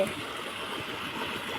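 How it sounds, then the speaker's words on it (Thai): Steady rushing flow of water, a continuous broadband wash that holds evenly throughout with no voices. "เนี่ยจ้ะน้ำไหล"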